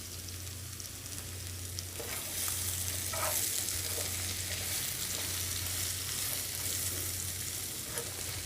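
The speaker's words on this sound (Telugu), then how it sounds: "ఇదంతా బాగా కలుపుకోవాలి." Snake gourd frying in a pan while masala is stirred in, giving a continuous close sizzle with soft scraping strokes of a spatula, steady throughout and without speech.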